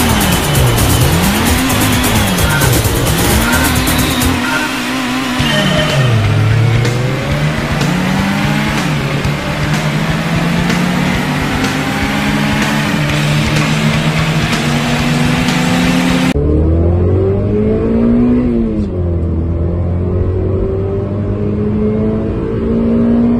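A Mazda MX-5 (NC) sports car engine, with reduced intake restriction, revs up and down repeatedly, rising and falling pitch sweeps, then settles into a steady drone with a lower idle near the end.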